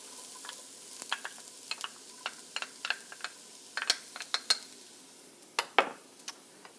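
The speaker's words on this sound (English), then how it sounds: "I chopped 2 good-sized cloves of garlic, which are going straight into this hot oil." Chopped garlic cloves and shallots hit hot oil in a pan, giving a soft sizzling bed broken by a scatter of sharp crackles, pops and light utensil clicks, close and fairly quiet, with no talk.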